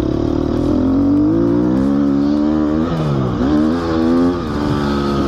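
A Gas Gas motorcycle engine revs and accelerates hard on a warm-up lap, running on motocross tyres. The loud, close engine rises and falls through several gear changes with no talking over it.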